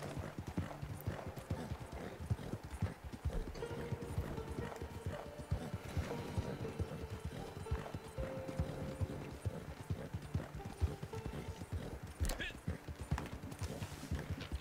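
Horse hooves in Red Dead Online clip-clop in a steady galloping rhythm throughout, with an occasional whinny, while someone talks over the hoofbeats.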